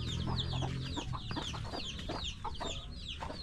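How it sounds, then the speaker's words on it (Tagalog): Chickens at a family farmyard by a small hut, clucking and calling repeatedly in a close, busy flurry with no speech. "Ito mga manok."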